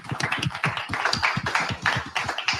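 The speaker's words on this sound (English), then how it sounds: "Can we give her a round of applause?" Applause at a live company safety meeting honoring a Highway Diamond of the Year: dense, steady clapping from a group that keeps going at an even level for the whole stretch.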